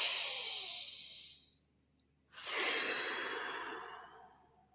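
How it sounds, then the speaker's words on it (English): A slow deep inhale and long exhale during a guided group mindfulness breathing exercise, close and breathy, with a short silent pause before a second full breath; no talking. "I invite everybody to take a big deep breath"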